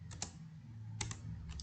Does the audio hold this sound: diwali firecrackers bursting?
no